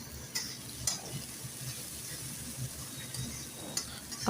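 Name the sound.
spices frying in oil for cauliflower fish curry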